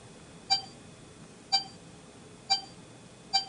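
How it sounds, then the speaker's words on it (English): Four short, clean electronic beeps at roughly one-second intervals from a Sony SMP-N200 streaming media player, triggered by menu navigation from a phone used as a remote, over a faint quiet background. "Instead of the click, I get a beep."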